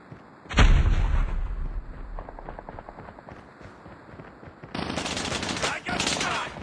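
Gunfire in the Call of Duty Mobile game on the Dome map: a loud blast starts things off, followed by a fast rattle of automatic fire. A second dense burst of shooting comes near the end, over a steady game background.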